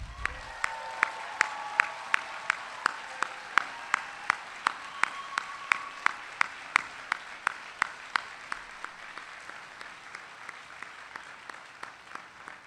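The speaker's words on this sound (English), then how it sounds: "Let's give them all another round of applause." An audience applauds at a high school graduation ceremony in Hawaii. The sound is a steady wash of clapping from a large crowd, with a sharp rhythmic clap close by that fades out toward the end.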